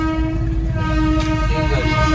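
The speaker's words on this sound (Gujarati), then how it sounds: "માંડ માંડ હવે ટ્રેન આવી છે" A long train rumbles past up close at a station in Dhoraji, with a steady low roar and a long sustained horn tone sounding over it throughout.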